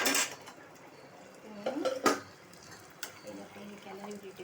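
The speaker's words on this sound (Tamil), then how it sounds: "இதை கிளறி விட்டுட்டே இருக்கும்." A spoon scrapes and clinks against a metal pot of rice for white biryani in irregular strokes, with soft talking between the stirring sounds.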